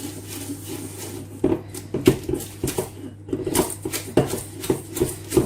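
A whisk works through white chocolate and cranberry cookie dough, giving irregular knocking and scraping against the bowl in uneven bursts, close and fairly loud over a low steady hum.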